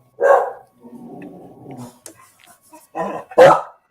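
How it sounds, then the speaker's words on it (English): A dog gives a sharp bark, then a low, rumbling growl, followed by two more quick barks, all fairly near and alone in an otherwise quiet space. "don't tell me I'm the only one who hears the dog."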